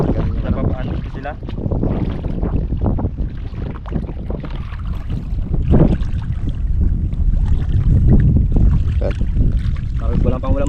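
Strong seaside wind roars and buffets the microphone in a continuous low rumble with gusty swells, while people talk underneath.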